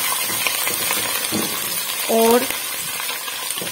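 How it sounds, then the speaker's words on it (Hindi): Garlic and ginger paste with white cumin seeds sautéing in a hot pan for a pulao, a steady close sizzle and frying hiss throughout, with a brief spoken word partway through. "10 सेकंड के लिए इसको भूनूंगी ताकि लहसुन अदरक का जो कच्चापन है वो खत्म हो जाए।"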